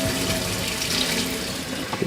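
Rinse water runs and splashes steadily as it is poured off salted pike roe in a kitchen, a continuous close gushing flow with no voices.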